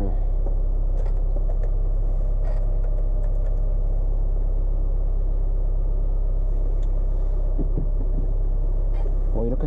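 Inside a Hyundai County bus on a short drive around the neighborhood, a deep, steady engine drone fills the cabin, with faint rattles and knocks over the rumble.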